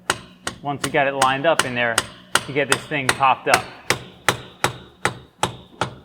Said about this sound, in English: we're going to use this dead blow hammer once we got it lined up in there